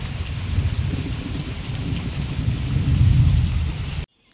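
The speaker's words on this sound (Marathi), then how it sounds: "10 मिनटं खतरनाक पाऊस लागला, जोरदार पाऊस." Hard rain falls in a dense, constant wash during a thunderstorm over a farm, with deep rumbling swelling toward the end before the sound cuts off abruptly.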